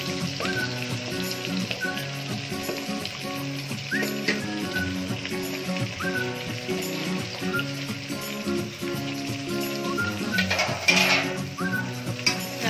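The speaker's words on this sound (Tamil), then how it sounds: "இப்போ நம்ம கட் பண்ணி எடுத்து வச்சிருக்கோம் ஆனியன் வந்து ஆட் பண்ணிக்கலாம்." Chopped onions fry in hot oil for chicken biryani, giving a dense, continuous sizzle throughout with occasional stirring noises and faint tonal background music underneath.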